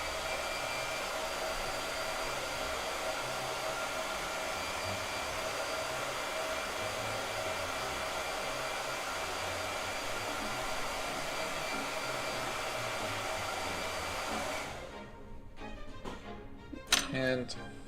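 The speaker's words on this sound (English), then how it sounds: "I'm going to do a blow dry." Hair dryer blowing on a gouache painting, a steady loud whoosh that runs for most of the stretch and then cuts off, followed by a few light clinks and taps.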